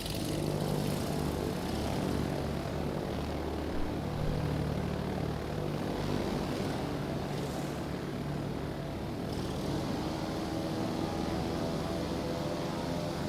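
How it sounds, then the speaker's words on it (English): Carrier aircraft fly in the naval combat game World of Warships: Legends, giving a loud, steady propeller-engine drone that holds for over ten seconds with no talking. "these planes on the whole show, I think, are definitely faster than the Langley planes"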